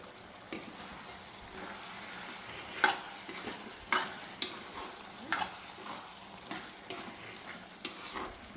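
Pumpkin curry with tamarind water being stirred in a pot, scattered scraping and clinking of a spoon against the vessel in irregular strokes, with a faint simmer beneath and no talking.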